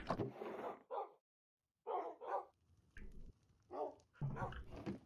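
Dogs barking in the Minecraft video game, a scattering of short, sharp in-game barks and yips that come in quick bursts with brief gaps between them, fairly clear with no talk over them.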